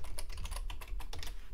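Rapid, uneven keystrokes on a computer keyboard while typing C code, a steady clatter of close, fairly loud clicks with no talking.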